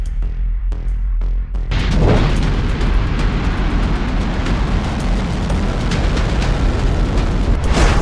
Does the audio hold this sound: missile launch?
yes